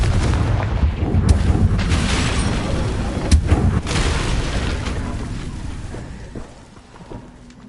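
A Confringo fire spell bursts with an explosive boom in the Hogwarts Legacy video game, a loud rumbling blast with several sharp impacts that fades toward the end.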